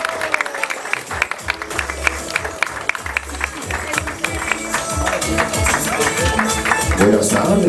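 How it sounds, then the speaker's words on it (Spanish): Wedding guests break into loud applause, rapid dense clapping mixed with crowd noise and busy background sounds that builds steadily across the stretch, with no clear talking. "fuertísimo aplauso"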